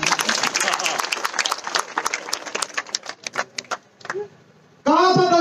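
Crowd applause at a political speech in Chhindwara, Madhya Pradesh: a burst of dense, fairly close clapping that thins into scattered claps, followed by a loud voice.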